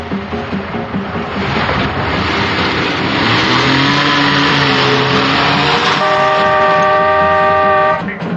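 A borrowed car's engine revs loudly and climbs in pitch as it pulls away, ending in a sustained tonal note like a horn.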